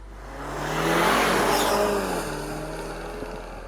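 A BMW X4 petrol engine accelerates with the throttle held down, a rising, moderately loud engine note with a steady tonal drone that swells and then eases slightly, with no talk.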